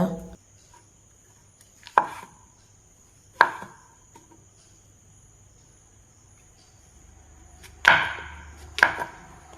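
Mushrooms being chopped with a knife for a mushroom pepper fry, four sharp, isolated knock-like cuts on a board spaced several seconds apart, close and clear against a quiet room with a faint steady insect-like hum.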